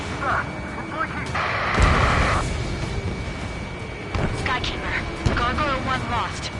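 Jet fighter combat in a video game, with a jet engine whoosh, missile launches and explosive bursts mixed under radio-style voices talking throughout.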